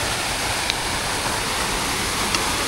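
A waterfall on the Torean trail of Mount Rinjani gives a constant, dense roar of rushing water, close and loud, with no voices over it.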